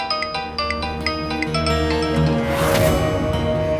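A phone plays a melodic ringtone for an incoming call from Raj, a repeating chime pattern that sounds loud and close, with a rushing noise swelling near the end.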